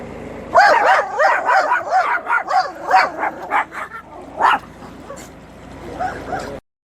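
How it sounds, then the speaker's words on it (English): A noisy dog aboard a moored canal boat barking at passing boats, a rapid close run of excited barks and yips that slows into a few whimpers before cutting off. "there is one boat with a rather noisy dog on it, and it barks at every boat that goes past"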